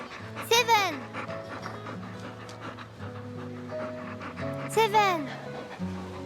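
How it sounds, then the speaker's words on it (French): A dog whimpers in two short, high, wavering bursts between soft panting, set against a steady musical background. "Tu es venu me chercher? Gentil chien."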